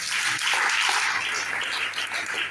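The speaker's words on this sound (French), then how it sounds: "Acclamez pour Jésus." A church congregation applauds and cheers during a French-language worship service, a steady, dense wash of clapping and voices that fills the whole moment without a break.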